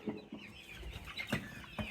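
Several chickens, including crested roosters, cluck softly in short, scattered calls that run close together over a faint outdoor background.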